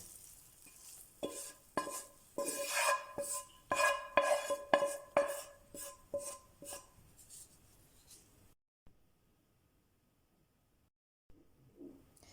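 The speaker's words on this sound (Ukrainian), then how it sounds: "Знову ставимо сковорідку на вогонь та вкидаємо порізані шампіньони" Sliced button mushrooms frying in a pan, with sizzling and scraping as they are stirred, busy and close for several seconds before going quiet.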